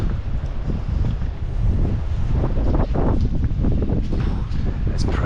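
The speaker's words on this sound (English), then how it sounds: "It's pretty windy actually today." Strong wind gusting outdoors in the seaside town of Estepona, Spain, buffeting the microphone with a steady low roar that swells and eases throughout.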